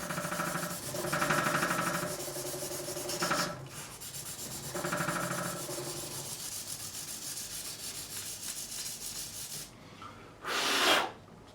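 Sandpaper rubs back and forth across the fingerboard of a custom hand-made Strat-style guitar during a re-fret, in several close, distinct scrubbing strokes with short pauses between them.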